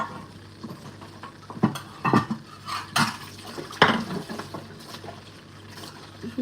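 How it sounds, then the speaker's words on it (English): Dishes being washed in water, with scattered clinks of cutlery and plates, splashes and running tap water at a moderate level, sporadic and close, without speech. "I'm washing my dishes right now."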